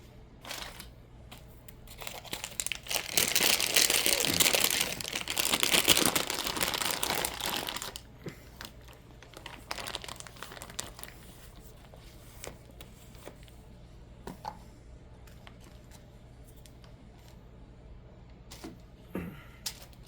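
A plastic piping bag filled with frosting for cupcake decorating crinkles and crunches loudly in a dense burst of handling noise, then trails off into scattered softer rustles and taps, with no talking.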